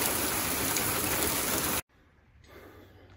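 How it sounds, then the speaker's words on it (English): Heavy rain pours down in a dense, loud, steady hiss for nearly two seconds, then cuts off abruptly and leaves a quieter background. "this big fat rain and all"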